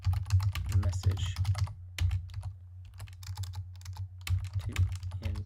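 Fingers type on a computer keyboard in steady runs of close, crisp key clicks with a short pause midway, over a low steady hum, no talk.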